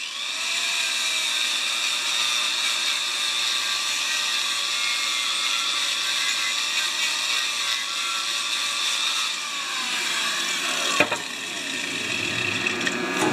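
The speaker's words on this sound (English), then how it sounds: "Grinding off the slag now." An angle grinder whines steadily while grinding slag off a weld on a Honda Quadra Cut mower, a loud continuous high-pitched grind with slight pitch dips and a brief sharp clack near the end.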